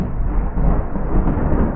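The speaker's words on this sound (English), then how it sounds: "maybe you can hear there's a thunder outside of my room" Thunder rumbles outside a room, a loud, continuous low roll that fills the short moment with no voices.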